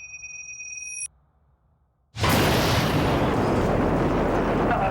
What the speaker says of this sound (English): I presume you heard that loud explosion right next to you?